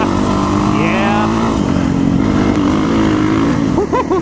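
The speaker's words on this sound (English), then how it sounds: "I can hear your bike. My bike sounds good, huh?" Motorcycle engine running steadily and loud throughout, a sustained throaty drone with slight pitch shifts near the end as the throttle changes.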